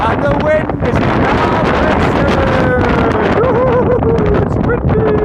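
Strong wind blowing steadily across an outdoor microphone in the Brecon Beacons hills at night, a constant loud rushing roar with gusty buffeting and faint whistling tones throughout.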